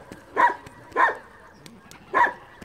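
A human voice imitates dogs barking while telling a comic story about thieves and dogs: three short, evenly spaced bark-like bursts, close and fairly loud, with quiet pauses between them.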